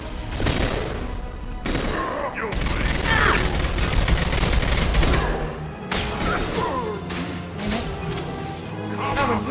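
Rapid volleys of gunfire from a firefight in Mass Effect 2 crack out in dense bursts, with sharp impacts and crashes between short pauses, loud and close, while voices speak over the action.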